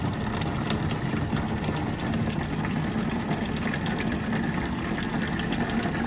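A water pump fills a campervan's water tank: a steady, dense rushing hum with no pauses, close and constant throughout.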